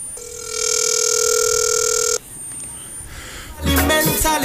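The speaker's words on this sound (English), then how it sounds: "The phone is ringing." A telephone rings out steadily for about two seconds while a call to the mayor is placed. The line then goes quiet, and a voice speaks over it afterward.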